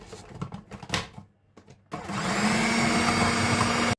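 A blender whirs steadily as it mixes sweetened condensed milk and vanilla into an ice cream base, a loud even motor drone that starts after a few seconds of quiet handling clatter and runs on alone.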